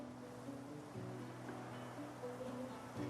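Ocean waves from the video game Divinity Original Sin 2 wash in softly and continuously at low volume, with faint sustained tones layered over the surf.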